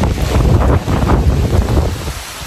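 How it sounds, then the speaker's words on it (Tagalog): Strong wind roars during a storm and flood, a loud steady broadband rush buffeting the microphone, with no voices. "Ang hangin."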